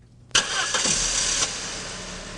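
A Saab 9-5 car engine cranks briefly and catches with a sharp burst, then settles into a steady idle, close and fairly loud.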